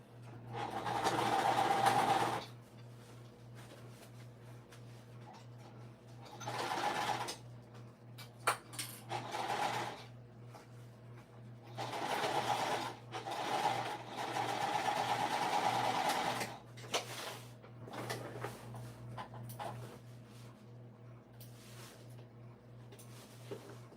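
Sewing machine stitching a seam on a crossbody bag, several bursts of fast mechanical whirring and clatter separated by short pauses, close by over a steady low hum, with no talk.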